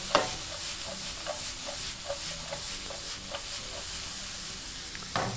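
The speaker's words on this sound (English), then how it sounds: "we're just going to allow our white onions to sweat out for about 2 to 3 minutes, making sure, of course, to give it a nice thorough mix right through" White onions sweat and sizzle in a pan for a Kenyan wet-fry tripe dinner, with a steady frying hiss broken by repeated scraping strokes of a spoon mixing them through, close and alone.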